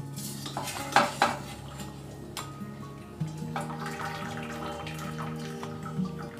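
Boiled cauliflower leaves are lifted out of a pot of water, with a couple of sharp metal clanks of a utensil against the pot followed by low humming background and faint watery movement.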